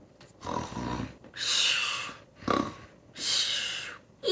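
A voice imitates loud snoring: two long, rasping inhale-and-snort cycles, close and alone, with soft breathy gaps between them.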